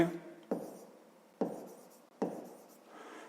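Pen or marker strokes on paper while working a grade-five math exercise, three distinct scratchy bursts about a second apart, each starting sharply and trailing off, close and fairly quiet with no talk.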